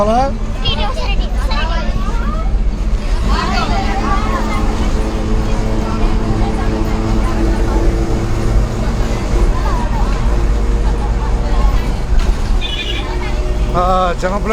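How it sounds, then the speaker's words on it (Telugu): Interior of a moving bus travelling from Tenali to Chinapulivarru, with a loud, steady engine and road rumble throughout and people talking over it. "బస్సు నుంచి లైవ్లో మనం"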